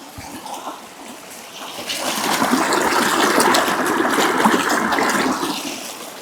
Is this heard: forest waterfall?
yes